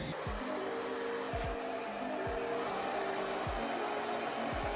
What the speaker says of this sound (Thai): เดี๋ยวจะมาไดผมอีกหนึ่งรอบนะคะ